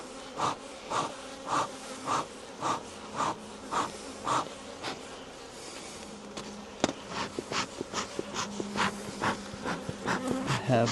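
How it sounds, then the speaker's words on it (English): Honeybees from an opened hive buzz in an agitated drone, close and continuous, while rhythmic breathing pulses through the first half and faint movement sounds follow. "angry group of insects that I would like to have less angry"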